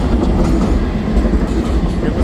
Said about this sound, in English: oh, there goes a tram right there.